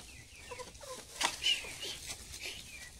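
Farm chickens feeding alongside sheep, giving soft scattered clucks and short calls over a quiet yard, with one sharper louder cluck near the middle.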